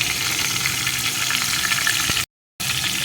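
Pumpkin fries with chopped tomato and turmeric, making a dense, loud sizzle close by that runs steadily before cutting out briefly near the end and then resuming.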